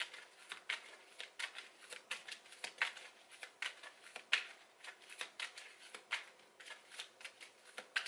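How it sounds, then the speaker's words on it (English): Oracle cards from an Energy Oracle deck being shuffled by hand, a quiet run of soft, rapid riffling flicks and papery slaps in an irregular rhythm, close and alone with no talk. "So I'm going to pull from the Energy Oracle deck."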